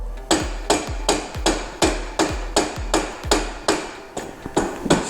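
A hammer taps out the rear axle of a go-kart in about a dozen sharp, evenly spaced metallic blows, close and loud, with no talking.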